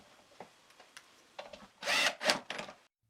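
A cheap lock miter router bit cuts a hardwood board on a router table, the wood pressed down over plywood: soft clicks and handling, then a few loud, harsh cutting bursts close by near the end, with no talking.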